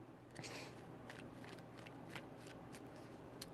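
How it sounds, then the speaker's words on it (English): Tarot cards are shuffled close by in soft, quiet riffling bursts, several brief papery flicks spaced irregularly over a low background hum, with no voices. "Three shuffles."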